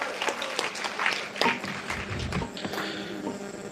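An audience at a North Karnataka comedy and mimicry show claps in a dense burst of applause that holds steady for several seconds, fairly close and lively.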